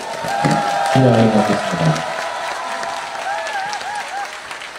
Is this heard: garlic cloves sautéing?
no